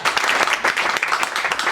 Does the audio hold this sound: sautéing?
no